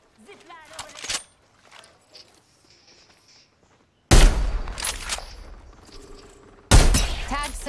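Gunfire in the Apex Legends video game: two sudden, loud, close bursts of shots, each ringing off into a lingering tail, following a quieter stretch with some faint game noises and brief talk.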